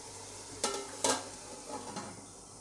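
Chicken pieces stirred into masala in a cooking pot for biryani, with two sharp scraping clacks of a spoon against the pot over a soft, steady sizzle.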